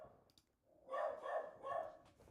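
A dog barks in agitated bursts, three loud barks in quick succession after a brief quieter lead-in, heard at moderate distance indoors during a home music-production session.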